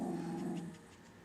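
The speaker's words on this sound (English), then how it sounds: "my dogs have decided to make a presence in my video again" Dogs indoors let out a sustained whining whimper close by, followed by soft rhythmic panting, fairly quiet and with no talk over it.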